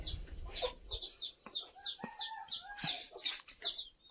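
A hen in a backyard poultry coop with chicks clucks in a rapid series of short, fairly close calls, joined by soft chirps from other fowl, with no talking.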